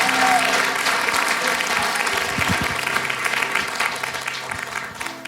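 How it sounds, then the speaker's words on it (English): Audience applause welcoming visitors at the Unity on the River gathering, a steady wash of many hands clapping throughout with a voice briefly talking underneath. "give them some applause"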